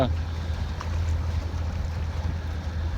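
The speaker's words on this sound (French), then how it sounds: "Ici, ça rafale en bas la montagne à force 5-6." Gusty force 5-6 wind blows off a mountain on a sailing boat, heard as a constant low roar and buffeting rumble on the microphone, with a voice speaking underneath.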